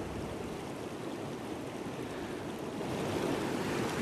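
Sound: flowing water

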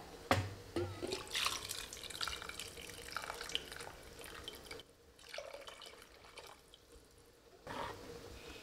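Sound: extra water poured into Kongu-style bajji kadayal

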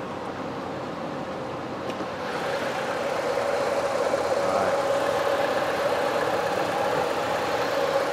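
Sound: car 1.6 engine idling

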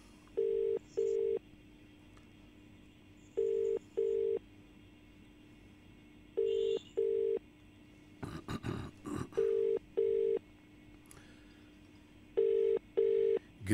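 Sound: telephone ringing unanswered

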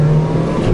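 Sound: Ford Focus 1.4 engine accelerating in first gear

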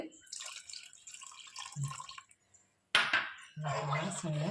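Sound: pouring a cup of thick coconut milk into garlic porridge

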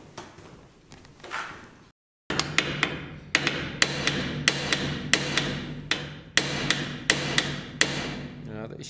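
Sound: hammering on a tank dome

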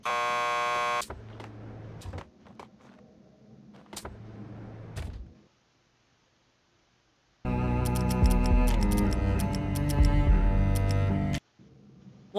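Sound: door buzzer in the video game Max Payne 2

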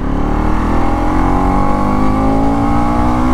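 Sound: Bajaj Pulsar NS 200 motorcycle revving past 7,000 RPM

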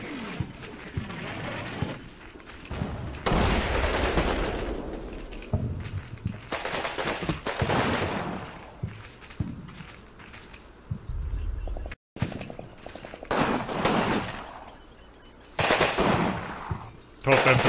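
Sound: gunfire from infantry scouts in video game Combat Mission

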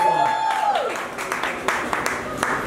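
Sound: audience applause for contestants

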